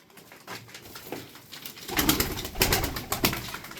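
Domestic Turkish tumbler pigeons coo close by, several overlapping low calls that swell louder in the second half, with some rustling and faint wing movement.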